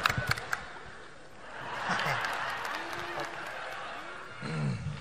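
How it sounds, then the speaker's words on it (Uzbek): A group claps for a new nurse at a doctors' staff meeting in a clinic, a moderate burst of applause rising and fading over a few seconds, mixed with voices talking and murmuring. "Hammamiz olqishlay uramiz"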